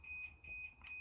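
A battery-powered alarm that needs a new battery gives repeated short high beeping chirps, three evenly spaced pulses at a faint, distant-sounding level in a quiet room.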